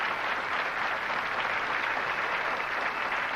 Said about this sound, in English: And the crowds that you're watching applaud have been coming in all week here at the King Louie Lanes